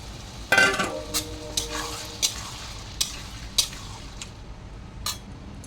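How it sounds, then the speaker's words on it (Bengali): Green chillies stirred and fried in a pan of oil with spices, giving a steady sizzle with a burst of spitting at the start and repeated spoon scrapes against the pan, close by. "4টে মতো কাঁচা লঙ্কা দিয়ে ভালো করে নাড়াচাড়া করে কষিয়ে নেব"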